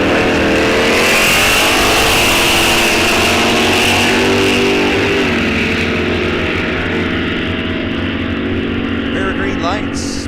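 Drag racing at Rock Falls Raceway as a Ford Mustang and a 1964 Plymouth launch side by side, a loud sustained roar of engines revving and then easing off, with an announcer's voice running over it.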